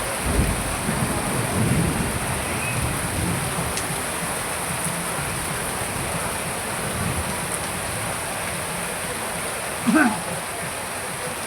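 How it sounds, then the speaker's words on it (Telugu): Heavy rain falls steadily in the Seethampeta hill forest area, a continuous hiss with low rumbling. A sharper thump comes near the end. "గొప్ప వర్షం పడుతుంది నిన్నటి నుంచి"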